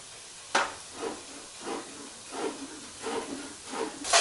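Ground turkey browns in a hot pan, a continuous hiss swelling and easing in an even rhythm of about six soft pulses, with one sharper scrape near the start and another at the end, no talking.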